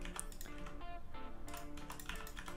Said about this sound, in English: hit C on my keyboard